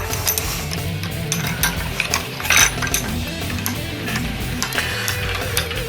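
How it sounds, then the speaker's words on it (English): A Galaxy 250 heavy duty jockey wheel is jacked up with steady, close metallic clicking and rattling of a ratcheting mechanism. One sharper clank stands out partway through. "line it up with the slots, and then jack the jockey wheel up"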